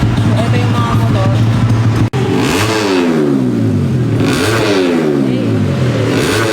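Racing motorcycles at a Malaysian race track rev loudly, engines rising and falling in repeated sweeping pitches after a sharp cut, close and dominant with no talk.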